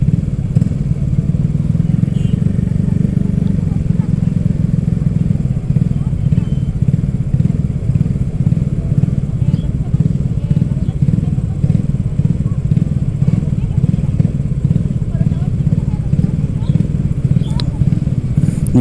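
A Honda Scoopy scooter engine drones steadily and close up throughout a night ride in Makassar, with a low, constant rumble and faint rattling underneath.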